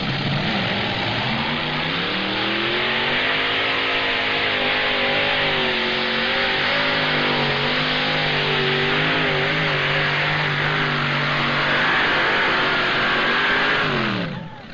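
A modified pulling tractor engine at a 1995 NTPA tractor pull in Fort Recovery screams at high revs, a loud, sustained roar whose pitch wavers and climbs for many seconds before cutting off abruptly.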